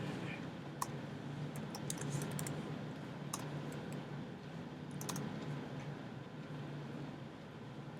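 A computer keyboard is typed on in scattered, quiet clicks and taps over a faint background hum.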